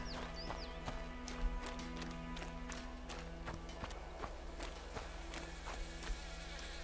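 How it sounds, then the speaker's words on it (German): Insects buzz steadily in a rural scene from A Plague Tale: Innocence, presumably bees, with a constant low hum overlaid by scattered soft clicks and taps at moderate, even loudness. "Bienen?"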